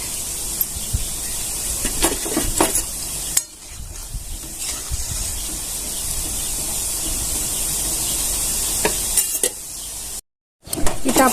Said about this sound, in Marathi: आता फक्त चमचा घालून फिरून घ्यायचे